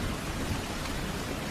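Heavy rain pours down steadily in a dense, unbroken hiss, loud and close, with no voices.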